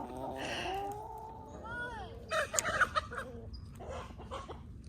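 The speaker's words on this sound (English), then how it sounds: "Oh my, we've got a handful of chickens." Several chickens cluck and squawk nearby in scattered bursts, with a person talking at the start.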